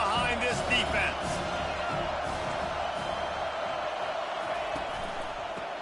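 A college football stadium crowd roars for the home defense before a big third down, a sustained, distant wall of cheering and whooping that stays loud throughout, with a commentator talking over it.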